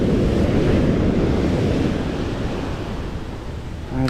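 Broad, steady roar of ocean waves surging and washing back in a harbor, loud and close with constant wind buffeting the microphone, the rush easing slightly before a fresh swell near the end.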